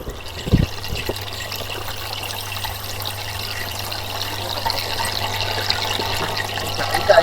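Water poured into a cooking pot while bagara rice with potato-tomato curry is prepared, a steady trickling stream lasting several seconds over a low background hum, with no clear talk.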